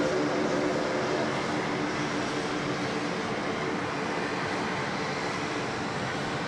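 A Boeing 737 airliner taxiing at Sydney Airport at night, a steady broad jet engine roar with a constant hum, loud and unbroken throughout with no talking.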